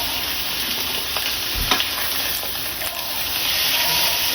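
Steady, close sizzling of chicken frying in a pan with lightly browned onions, with faint stirring scrapes under a continuous hiss.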